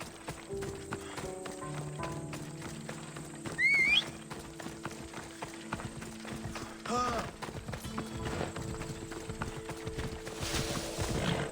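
Horse hooves clip-clopping at a run in Assassin's Creed Odyssey, a steady rhythmic trot with an occasional whinny, mixed under game music and ambient effects with a player talking over it.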